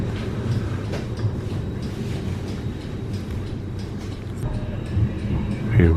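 Edinburgh tram running through the city centre on the airport route near St Andrew Square, a steady low rumble of wheels and motor carrying on continuously at close range, with occasional faint rattles and chatter.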